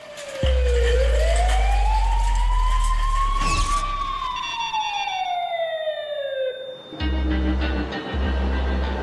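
An ambulance siren wails loud and close, rising and falling in long sweeping tones while a heavy engine rumbles underneath, then the pitch drops as the vehicle passes.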